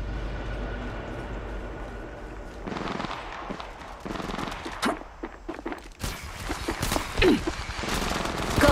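Gunfire rings out in an Apex Legends match as a rapid string of sharp cracks under a steady background rumble, growing denser and louder toward the end.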